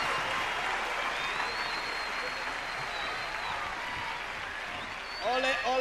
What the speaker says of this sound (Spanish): un gran aplauso de la Quinta Vergara